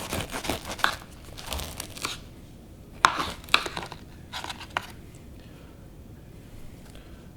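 Crisp crunching and crackling as a knife saws through the crust of a sourdough loaf, in several bursts of rasping strokes with short pauses between them, close up with no talking.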